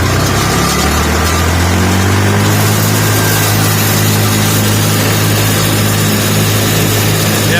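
A feed grinder runs steadily after warming up, its loud, continuous mechanical hum and engine drone holding even throughout with no talk.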